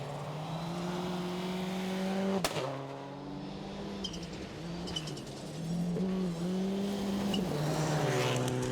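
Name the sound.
Subaru rally car driving a stage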